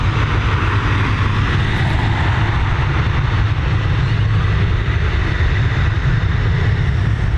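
A Ryanair airliner departs Dublin Airport with a continuous, loud, broadband engine roar and deep rumble that stays steady throughout, with no voices over it.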